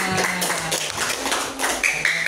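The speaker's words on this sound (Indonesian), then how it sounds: "Tepuk tangan dulu semuanya" Children in a classroom clap their hands in a quick scattered burst of claps, moderately loud and close, with brief bright tones toward the end.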